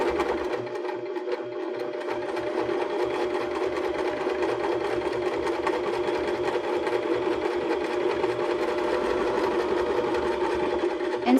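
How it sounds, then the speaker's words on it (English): A sewing machine runs a steady top stitch along a zipper on a cork-strap purse, a close, continuous whirring hum that holds without pause and with no talk. "And sew all the way to the end."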